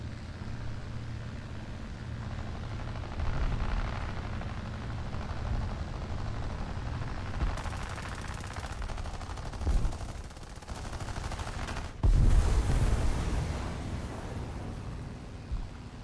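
Dense gunfire and rolling explosions from War Thunder air combat fill the space in a loud, unbroken din with a deep engine drone beneath, rapid machine-gun bursts throughout and a heavy blast standing out near the end.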